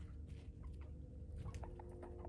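Chickens cluck softly in a barn setting under a heat lamp, scattered short clucks over a constant low hum, faint and fairly distant.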